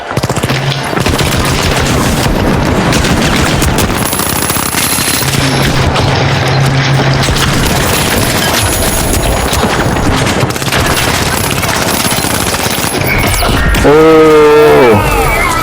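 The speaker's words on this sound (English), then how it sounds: "Grenade out." Explosions and rapid gunfire from The Finals video game in a dense, sustained barrage that fills the whole stretch, with heavy booms and crashes, ending with a burst of rising tonal effects.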